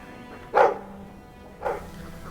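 Two short barks from a dog in Dragon Age 2, about a second apart, mid-distance over a quiet ambient background, no speech.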